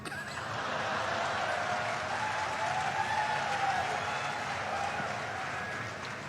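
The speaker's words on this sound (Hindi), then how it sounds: "व्यंग पर तालियां तो अब आपकी अब उठेंगी।" Dense, steady applause from a live audience at a comedy or satire show, filling the room continuously from start to finish with no voices over it.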